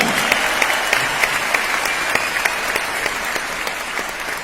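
Loud, sustained audience applause at a Vestige rank celebration event in Delhi: a thick, even roar of many hands clapping that carries on continuously without a break.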